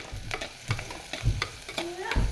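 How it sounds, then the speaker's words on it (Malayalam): Sliced onions frying in oil in a pan, a close sizzle broken by repeated stirring scrapes and clinks across a couple of seconds. "അപ്പോൾ ഒരു അഞ്ച് മിനിറ്റ് എണ്ണയിൽ സവാള കിടക്കട്ടെ"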